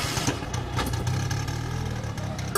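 An auto-rickshaw engine rumbling close by as it pulls away, a low, steady putter that holds for a few seconds with no talk over it.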